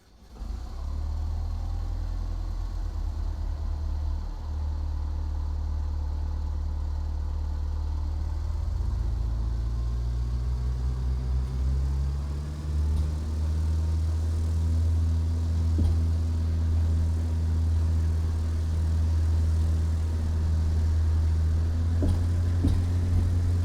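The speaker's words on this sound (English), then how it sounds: "To start the engine, press Ctrl E." A light aircraft engine in Flight Simulator X cranks and catches, then settles into a steady, loud low drone that holds alone throughout, with the pitch rising slightly partway through.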